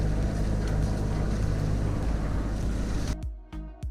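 A sailboat motoring under engine power, with a steady low engine drone mixed with water wash and wind that drops away suddenly near the end, leaving sparse knocks and splashes.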